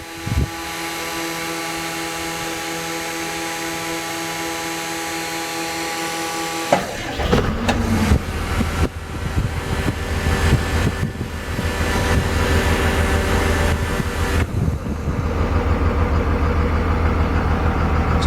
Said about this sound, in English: It's a pretty healthy sounding engine